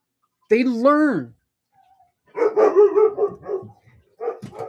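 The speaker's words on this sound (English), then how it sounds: "Very sorry about the dogs." Dogs bark indoors in a few short bursts and a yelping, whining run, with a person's voice speaking between and over them, close and moderately loud.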